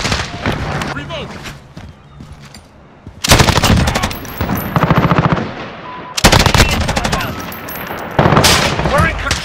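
Sustained automatic bursts from an FN Minimi (Bruen Mk9) in Modern Warfare multiplayer gameplay ring out as loud, rapid volleys in three or four long strings, after a quieter stretch with game voices shouting.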